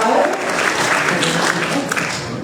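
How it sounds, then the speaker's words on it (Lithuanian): Audience applause at a live accordion music event, a dense steady wash of clapping from a large crowd holding at full strength throughout. "Taip kad plojimų neiškaldykit."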